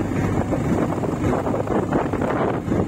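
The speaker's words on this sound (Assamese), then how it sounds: "এতিয়া পুৰা ঠাণ্ডা বতাহ মাৰি আছে" Cold wind blowing hard over a high mountain road at Mayudia Pass in Arunachal, a loud continuous roaring rush buffeting the microphone without a break.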